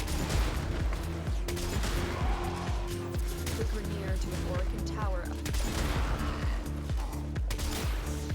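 Rapid, dense bursts of explosive weapon fire from the Corinth Prime's alt-fire area-of-effect blasts in the Warframe video game, a steady barrage of booms and crackles under a game soundtrack, with someone talking over it.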